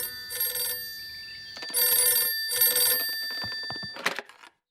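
Cartoon telephone ringing in bursts of bright electronic trills, two or three close rings with gaps between them, ending in a short clatter.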